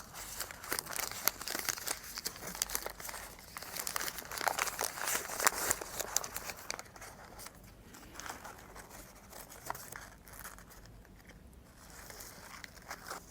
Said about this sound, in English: Generally, we will use this kind of oil paper to wrap it up.